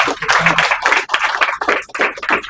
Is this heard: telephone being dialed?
no